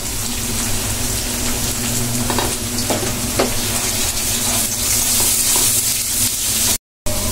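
Onions frying in oil for beresta give a dense, even crackling sizzle that runs close and loud throughout, with faint scrapes of stirring and a brief dropout near the end.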